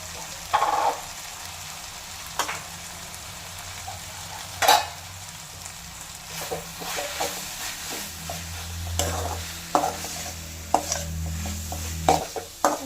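Dry-roasted chili, coriander and turmeric powders are stirred into tomatoes frying in oil for a spicy chicken curry, giving a low, steady sizzle broken by repeated sharp spatula scrapes and knocks against the pan.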